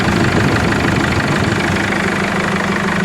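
Caravan engine running after a service, a loud steady idle with a rough, knocking low rumble that stays constant, with no voices.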